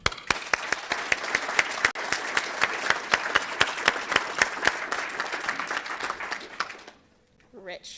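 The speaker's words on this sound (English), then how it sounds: "I want to give them all a big round of applause" Loud, sustained applause fills a room at an Oregon State University research pitch event, many hands clapping with sharp individual claps on top before it cuts off abruptly and a voice begins speaking.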